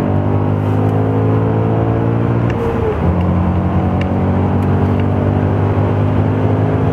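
An Audi race car on the Barcelona-Catalunya circuit drones loudly from onboard, its engine pitch dipping briefly around a gear change before climbing again as it accelerates hard.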